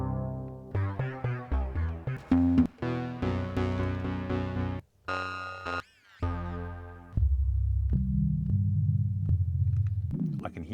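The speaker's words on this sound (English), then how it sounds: "browsing for synth sounds is really fast because you can play them on the pads as you're browsing" Synth patches played on the pads of an Ableton Move sound as a run of plucked and keyed notes, then sustained chords and a deep droning bass, clear and close with no talk.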